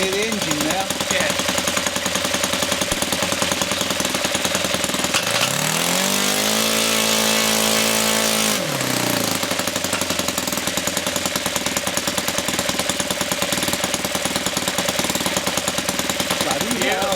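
RC model aircraft engine running steadily at close range with a harsh, buzzing, rattling drone; midway the pitch dips and then climbs again as the throttle changes, while a voice talks briefly underneath.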